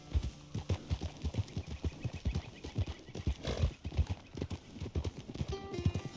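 Rhythmic hoofbeats clip-clop steadily close by, a horse trotting with even, repeated thuds throughout, in the video game Red Dead Redemption 2.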